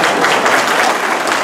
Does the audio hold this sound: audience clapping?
yes